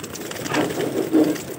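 Caged home-bred pigeons coo softly at close range, a few low, rounded calls rising and falling over faint background noise, with no voices.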